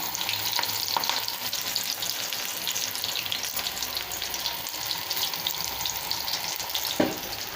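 Balls of punarnava vada mixture frying in oil in a kadhai, giving a dense, continuous sizzle throughout, with a few faint stirring scrapes and a brief clink near the end.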